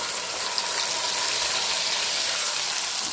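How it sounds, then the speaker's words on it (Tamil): Curry leaves fry in hot oil for an Andhra chili chutney, giving a steady, bright crackling sizzle that stays even in level throughout, with no talking. "கருவேப்பிலை சேர்த்து நல்லா பொரிஞ்சிருச்சு"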